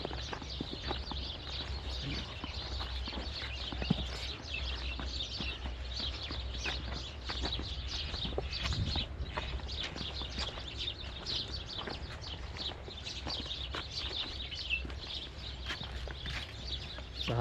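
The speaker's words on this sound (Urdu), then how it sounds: "چڑیوں کا یہ چہچہانا" Sparrows chirp steadily at a graveyard, a dense bright twittering running throughout over a constant low rumble, with occasional clatter in the background.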